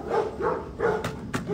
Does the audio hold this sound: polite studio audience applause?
no